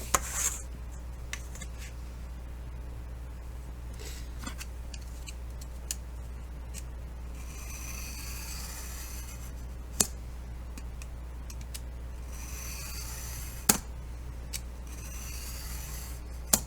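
Scissors snip and rub through an old clutch purse close by, quiet rasping with a few sharp clicks scattered across a steady low hum.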